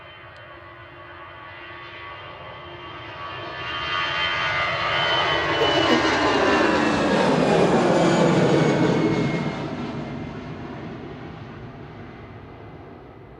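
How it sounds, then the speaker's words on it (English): An EasyJet Airbus A320 Classic jet departs a runway at Manchester Airport, its engine roar building from a distant hum to a loud, broad rush as it passes, then slowly fading, with no talking. "EasyJet departing on 23 left back to Paris Charles de Gaulle. This is an A320 Classic"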